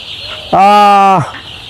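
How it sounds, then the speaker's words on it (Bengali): A single loud, drawn-out chicken squawk rings out close by against a quiet background, as chickens fight. "মুরগির যুদ্ধ শুরু হয়ে গেছে মনে হয়"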